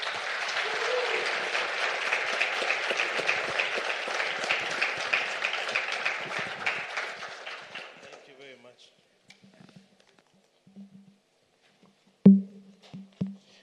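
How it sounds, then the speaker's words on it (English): Audience clapping at a competition law and economics conference after a panel, dense applause for about eight seconds that thins and fades out, followed by a few scattered claps and a brief voice near the end. "So please give them a round of applause."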